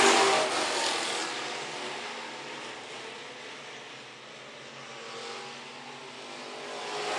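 IMCA stock cars racing at Phillips County Raceway, a steady loud engine roar throughout that swells slightly at the start and end as the cars pass, with no voices.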